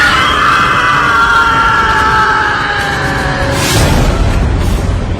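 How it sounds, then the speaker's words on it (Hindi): A man's loud, sustained scream used as a sound effect in a narrated horror story, wavering over a few seconds before it breaks into a burst of noise, with a dense, harsh tone throughout. "सामने वही आदमी खड़ा था और आरव के मुंह पर इतनी जोर से चीखा कि बस तुरंत ही वापस दरवाजे को बंद करना पड़ा"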